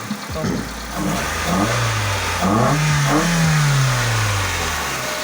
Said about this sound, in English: There's a rattle in the valves.